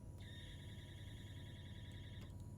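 A steady electronic warning bell or alarm tone rings continuously for about two seconds over a low mechanical hum, then cuts off.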